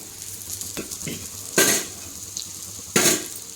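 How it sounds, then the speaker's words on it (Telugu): Six or seven dried red chillies fry in a pan with a soft, steady sizzle, broken by a few close spatula stirs and two louder scraping strokes. "ఒక ఆరేడు ఎండుమిర్చి ఇది ఇట్లా ఫ్రై చేసుకుంటున్నాండి"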